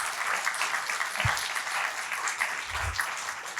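Audience applause following a talk on great pianists of the past, a steady wash of many hands clapping together, fairly close and continuous for a few seconds with no voices.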